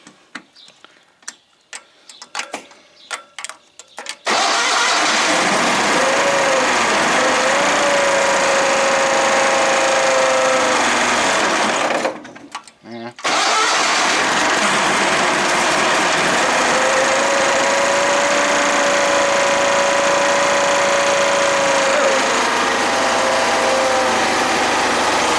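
An older-style Toro Proline 724 Z zero-turn mower, choked for a cold start, gives a few clicks before its engine catches and settles into a loud, steady idle. The idle breaks off briefly midway, then resumes and runs evenly.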